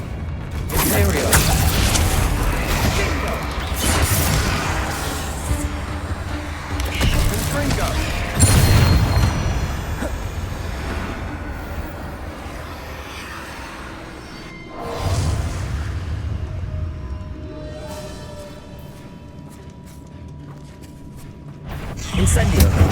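Spellcasting combat in Hogwarts Legacy, including the Imperio curse, comes through as repeated magical whooshes and booming impacts at a steady loud level. A voice calls out spell names over the effects.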